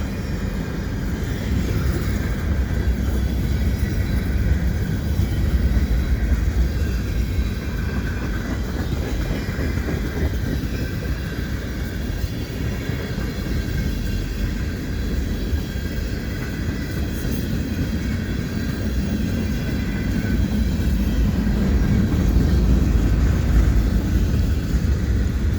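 A CP mixed freight train passing at Dorval in winter, a steady close roar of wheels and railcars with faint rhythmic clatter and a high squeal, continuing unbroken for the whole stretch.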